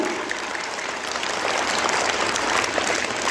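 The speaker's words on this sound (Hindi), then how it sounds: "चलिए, एक बार फिर इन सभी लोगों के लिए एक बार जोरदार ताली हो जाए, अच्छी ताली।" Steady, dense applause from an audience at a welcoming program for newly selected BPSC teachers, full and continuous throughout with no talk over it.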